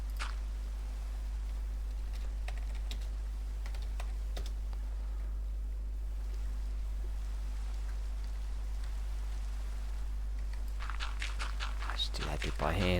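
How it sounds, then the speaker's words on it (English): Typing on a computer keyboard clicks in scattered bursts over a steady low hum during a Minecraft build session, quiet at first and then turning into a denser flurry of keystrokes near the end, with someone talking. "Typing in the wrong command."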